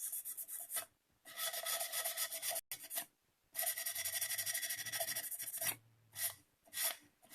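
Sandpaper rubs around the rim of a cup to clear epoxy, making close, raspy scraping strokes in several bursts separated by short pauses.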